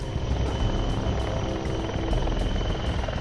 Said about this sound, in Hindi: सेना का हेलीकॉप्टर तेजी से आतंकियों के ठिकाने की ओर बढ़ रहा है।